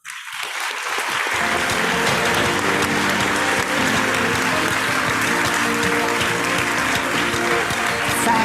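Audience applause at a health policy keynote event, a dense, sustained wash of clapping rising quickly after a brief quiet start and holding steady and loud throughout.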